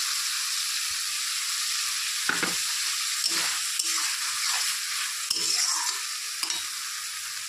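Ground tomato paste frying in a pan, a steady bright hiss of sizzling with occasional spoon scrapes and clinks stirring through it, close and continuous without any speech.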